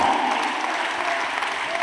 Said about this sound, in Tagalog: Palakpak sa Ginoo.